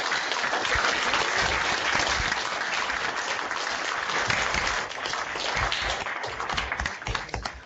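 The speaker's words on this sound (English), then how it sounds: "joining me in giving a warm round of applause to Pro Football Hall of Fame" Warm, sustained applause for Pro Football Hall of Fame member James Lofton, a thick continuous wash of many hands clapping at moderate level, with no speech over it.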